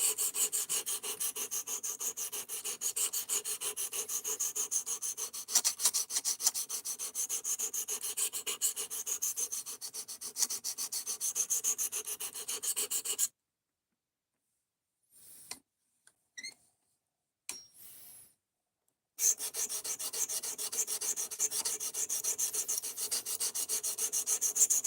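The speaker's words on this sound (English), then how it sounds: "this thing is actually sharpening up pretty good now" A blade is drawn repeatedly over a sharpener in rapid, rhythmic scraping strokes up close, which stop abruptly for several seconds, broken only by a few faint clicks, before the scraping resumes.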